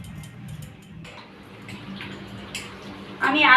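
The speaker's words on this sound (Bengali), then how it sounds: "আমি আলুটা ভালো করে কেটে ধুয়ে নিয়েছি।" Freshly cut potatoes are rinsed under a running kitchen tap, with a brief burst of splashing water near the end after a quieter stretch where a voice is heard.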